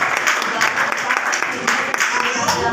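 Hand clapping at a religious sermon comes as a string of sharp, fairly regular claps close by, mixed in with ongoing talk.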